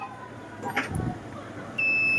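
After a soft clatter, a multimeter's continuity buzzer switches on abruptly in a steady high-pitched electronic buzz and holds constantly until the end.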